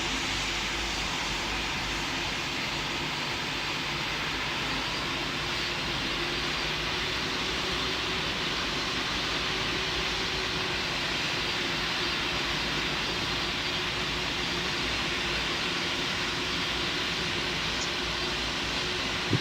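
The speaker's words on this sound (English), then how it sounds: "Emirates 1006, that's a very fast landing" An airliner touching down fast on a runway in the Roblox PTFS flight simulator, with a continuous loud broadband roar of engine and rushing air that holds steady throughout and has no talking.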